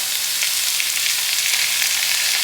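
Shredded onion and potatoes fry in a pan for a crispy potato, cheese and spinach crustless quiche, giving a steady, dense hiss and crackle of hot oil that holds level throughout, with no voices.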